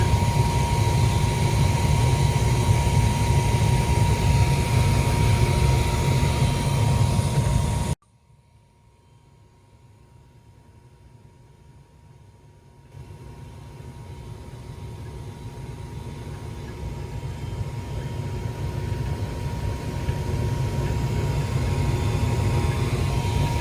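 A Goodman gas furnace roars steadily with its blower and burner flames, cuts to near silence for several seconds, then builds back to a loud continuous rush, with no talk.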